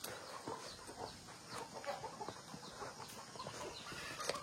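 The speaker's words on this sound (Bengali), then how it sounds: "পক পক পক পক আওয়াজ তো শুনতে পাচ্ছেন আশা করি।" Chickens clucking around a village house in the forest of Toraja, Indonesia, with repeated soft, quick clucks and scattered calls, fairly faint and close, with no talk.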